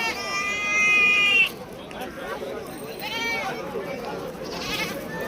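Goats bleat at the Shirur goat market, with a long wavering cry followed by shorter bleats, mixed with crowd chatter and people talking nearby.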